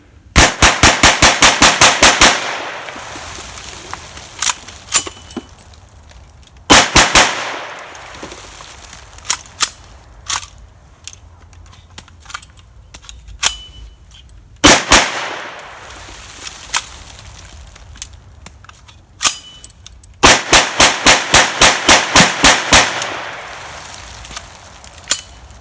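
Smith & Wesson M&P Shield 9mm pistol firing Remington round-nose full metal jacket target ammo, loud sharp shots in rapid strings of many rounds, with single spaced shots and pauses between strings.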